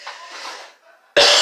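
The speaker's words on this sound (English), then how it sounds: "And I am sorry for coughing." A single person coughs once, a sudden loud harsh burst at the end, preceded by soft breathy rustling and quiet mouth noise indoors.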